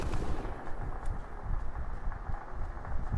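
Rapid bursts of Fortnite gunfire crackle in a steady stream, dense and low-pitched, continuing throughout without any talking.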